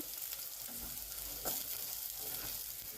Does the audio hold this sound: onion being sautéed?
yes